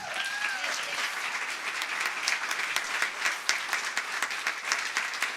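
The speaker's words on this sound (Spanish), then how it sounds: "Vamos a darle un aplauso a San José." An audience at a religious talk applauds for Saint Joseph, a dense, steady wash of many hands clapping at moderate distance that carries through the whole stretch without pause.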